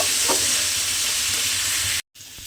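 Mixed vegetables for fried rice sizzle loudly in a hot pan, a steady hiss broken by a brief gap and the occasional scrape of stirring.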